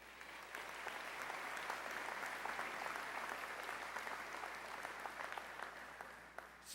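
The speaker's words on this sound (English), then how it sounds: "Give yourselves a round of applause." Steady, dense applause from a large commencement ceremony audience, heard alone without talk, holding at an even level for several seconds.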